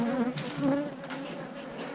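Bees buzz around an open beehive colony, a close, steady droning hum with individual insects whining past in overlapping tones.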